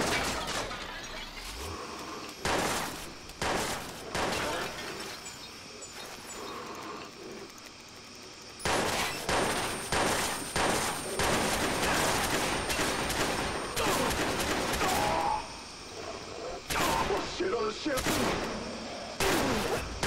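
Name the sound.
gunfire in the video game Watch Dogs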